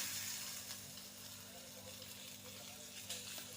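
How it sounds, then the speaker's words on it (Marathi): Asafoetida and a handful of curry leaves frying in hot oil in a pan, a steady soft sizzle heard close and low without any speech over it. "हिंग तेलामध्ये व्यवस्थित फ्राय करून घ्यायचा त्यातच आपल्याला पाच सहा कढीपत्त्याची पानं टाकायची कढीपत्त्याची पानं पण व्यवस्थित परतून घ्यायची"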